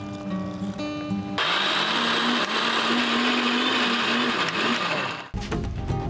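A blender with a little purified water added spins its blade with a loud, steady whir. It kicks in after a short quieter stretch, runs for about four seconds and then cuts off abruptly.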